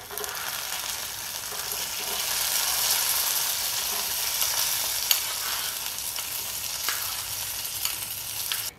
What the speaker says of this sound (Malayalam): ബാക്കിയുള്ള നെയ്യിൽ നമുക്ക് കിസ്മിസ് കൂടെ വറുത്തെടുക്കാം.